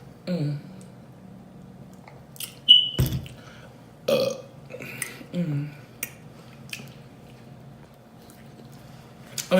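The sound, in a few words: burp during eating show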